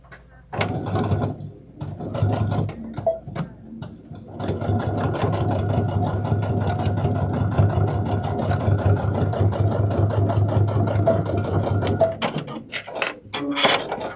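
Sewing machine top stitching a backpack, a close, steady mechanical whirr of rapid stitching that runs for about eight seconds, with short bursts before and after and a few brief pauses.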